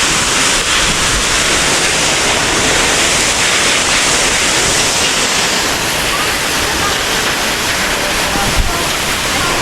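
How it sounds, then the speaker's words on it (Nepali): The Mohani waterfall in Chitlang, Nepal, roars as a steady, dense rush of falling water, loud and close, filling the whole stretch without a break. "this is मोहनी झरना यो चाहिँ मोहनी झरना है चितलाङको"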